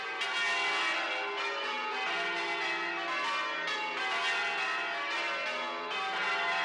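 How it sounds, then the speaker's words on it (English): The bells of St Mary's Cathedral in Limerick ring out in a steady overlapping peal, bright and resonant, with the strikes blending into a continuous shimmering wash and no voices. "The bells in Limerick are an integral part of city life"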